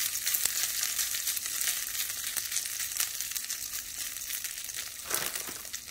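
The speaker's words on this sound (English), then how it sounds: "So I'm gonna take some of my hash browns and right onto my waffle maker" Hash browns sizzling on a hot waffle maker, a steady crackling hiss with brief scraping and crinkling, close by and heard without talk.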